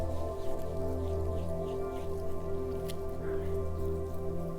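Wet fingers massage cleanser mixed with added water over skin during a double cleanse, giving soft squishy, drippy sounds close up beneath a steady background hum.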